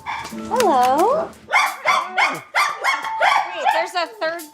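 Several dogs bark and yelp close by in an excited burst, with a long whining howl at first and then a run of rapid, overlapping barks.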